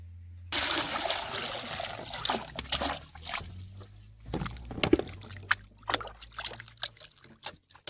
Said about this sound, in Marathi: त्याच्यात पाणी टाकून धुवून घेऊ